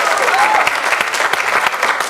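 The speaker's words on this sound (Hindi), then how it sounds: "तालियां इनके लिए" Studio audience on a Hindi game show applauds two contestants, a dense, steady burst of close clapping that fills the whole stretch with little letup.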